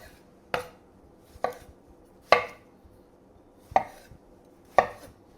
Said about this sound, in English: take our fresh tomatoes and quarter them